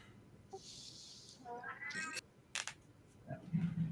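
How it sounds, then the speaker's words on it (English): An angry cat lets out drawn-out, rising yowls and meows, fairly close and loud against a low background hum, with a sharp click and a brief scuffle near the end. "that cat sounded pissed"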